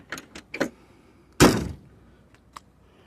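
Door of a 1968 MGB GT sports car shut firmly once with a solid thunk, preceded by a few light handling clicks and followed by a faint tap, close by with no talk.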